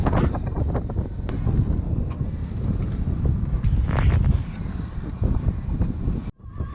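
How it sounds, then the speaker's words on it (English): Steady wind roars across the microphone aboard a shorthanded performance racing multihull sailing in about 10 to 15 knots, a broad constant rush with faint water and hull noise, cutting off abruptly near the end. "the wind's back up"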